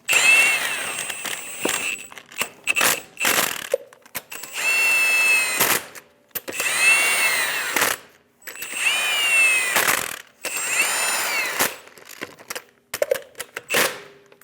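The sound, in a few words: snugging down wheel lug nuts on a Ram 1500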